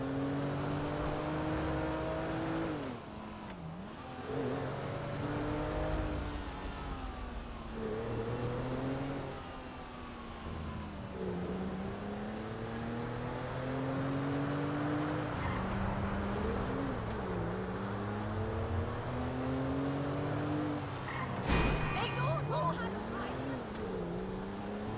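A car engine hums steadily while driving in the video game Grand Theft Auto V, rising and falling in pitch as it speeds up and eases off, loud and continuous throughout, with a sharp knock near the end.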